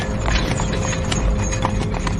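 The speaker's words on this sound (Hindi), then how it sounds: "घोड़े दहशत में हिनहिनाते हुए अपने पिछले पैरों पर खड़े हो गए।" Carriage horses pull a horse-drawn carriage with a loud, steady clip-clop of hooves and busy overlapping footfalls, with no talk.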